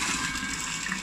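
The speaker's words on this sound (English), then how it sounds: "Now we take the pump outside of water." A solar water pump being lifted out of the water, giving a loud, steady gushing and splashing of water throughout the short moment.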